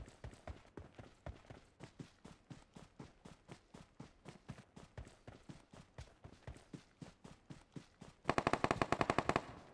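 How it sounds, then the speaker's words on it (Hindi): Rapid, rhythmic gunfire from the video game BGMI rings out in a steady series of sharp shots, ending in a louder, denser automatic burst. "किसी ने फायर किया"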